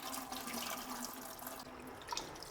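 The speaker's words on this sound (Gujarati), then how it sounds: "આ ચોખાને આપણે 3 થી 4 પાણીથી એકદમ સારી રીતે ધોઈ લેવાના છે" Rice is washed by hand in water in a home kitchen, the grains rubbed so the water turns cloudy; gentle sloshing and trickling splashes continue steadily at close range with no talk.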